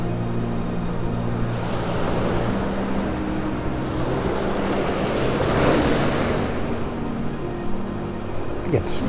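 Ocean waves washing onto the beach in North Naples, Florida in the early morning, a steady broad roar of surf with some wind rumble on the microphone, surging slightly louder midway.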